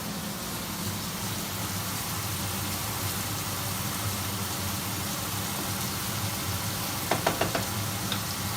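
Bacon fat rendering in a pan while making chicken in a white wine cream sauce: a steady, dense sizzle that runs throughout, with a few light knocks near the end.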